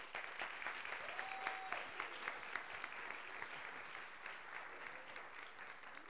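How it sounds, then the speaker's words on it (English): Steady applause from an audience at a school Grade 5 winter concert fills the room, dense clapping continuing evenly throughout, heard from some distance. "give them a big round of applause"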